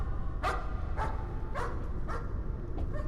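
A dog in the horror game Layers of Fear barks sharply about six times at an even pace over a low, steady rumble, fairly close, with no speech.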